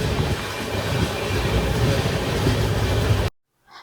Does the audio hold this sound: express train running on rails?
yes